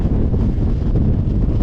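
Steady, loud wind buffeting a microphone on a Welsh mountain, Cadair Berwyn, a continuous low roar and rumble with no pauses.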